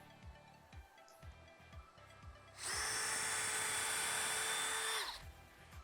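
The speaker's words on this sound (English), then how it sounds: "drill a pilot hole through both pieces of wood at the same time using a power drill" A power drill bores a pilot hole through two stacked pieces of wood, one steady high whine lasting about two and a half seconds, close but fairly quiet, after soft shop noise.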